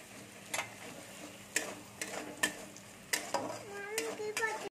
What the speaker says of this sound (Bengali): গোটা পোস্তগুলো আমি দিয়ে দিচ্ছি। এটাও আমি ভেজে নেবো।